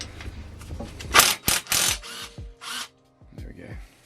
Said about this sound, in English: 13mm socket on the impact. Should just whiz this off.